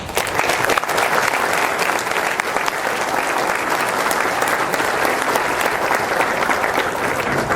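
A dense, sustained wave of audience applause at the 2023 National Wrestling Hall of Fame Ohio chapter induction ceremony, steady and loud throughout with no pauses.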